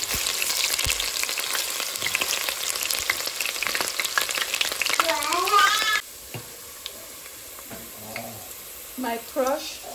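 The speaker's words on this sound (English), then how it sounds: "I'll put in my chopped onion." Chopped onion hits hot oil for Cameroonian fried beans, a loud steady sizzle for about six seconds that then drops to a quieter crackle, with cat meows in the background.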